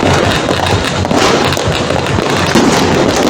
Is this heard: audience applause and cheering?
no